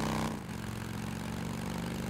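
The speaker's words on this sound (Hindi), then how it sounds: "ये ऐसे क्यों चल रही है बाइक?" A motorcycle engine in Days Gone runs roughly, its steady, buzzing idle pulsing with an uneven throb after a brief louder rev at the start, with no one talking over it.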